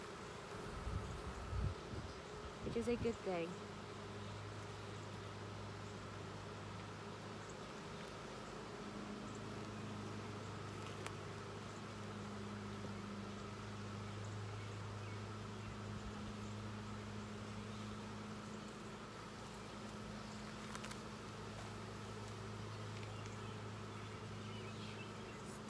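Honey bees buzz steadily around an open hive during an inspection, a soft continuous drone with a brief speaking voice and handling noise near the start.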